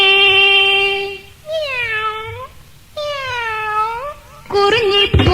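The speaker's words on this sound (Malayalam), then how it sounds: "കുറുഞ്ഞി പൂച്ചേ വരുന്നുണ്ടെന്റെ" Three clear, drawn-out cat meows sound close and loud within a Malayalam Mappila devotional song, each rising then falling, with brief gaps between them and a faint musical backing underneath.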